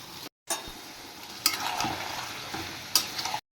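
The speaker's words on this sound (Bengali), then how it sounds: "চিকেন দিয়ে দিয়েছি, এবার চিকেনটা ভালো করে একটু ফ্রাই করে নেব আগে।" Chicken frying in a pan with a steady sizzle and repeated stirring scrapes, close and alone, with two short gaps of silence.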